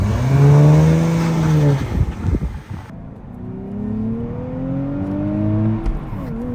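A 2023 Nissan Z Performance driving hard, its engine revving up through rising pitch, easing between shifts, then climbing again, loud and close with no talk.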